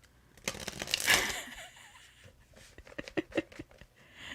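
Tarot cards are shuffled by hand nearby, a rising flurry of papery riffling that peaks early, then softer scattered card slaps and taps follow.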